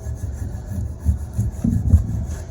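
Old silicone is scraped off a gasket surface during prep for reassembly, a close, low, grinding rasp of repeated strokes that swells and fades irregularly without pause.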